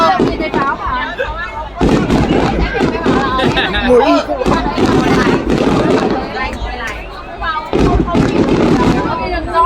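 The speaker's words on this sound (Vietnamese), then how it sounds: "Nhìn thấy pháo mà." Fireworks explode at the Đền Đô temple festival, a dense, continuous barrage of loud pops and crackling bursts with brief lulls, while people nearby talk and chatter over the noise.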